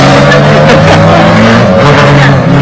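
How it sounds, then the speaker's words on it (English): TCR touring race cars roar past on the Croft Circuit with loud, continuous engine noise and rising revs that fill the whole clip. "TCRs are very loud."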